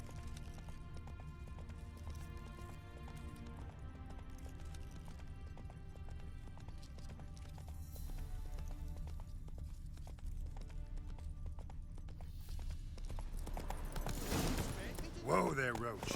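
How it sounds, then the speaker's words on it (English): Horse hooves trot in a steady clip-clop rhythm in The Witcher video game, under soft background music, growing louder toward the end with a rising whoosh. "Whoa there, Roach."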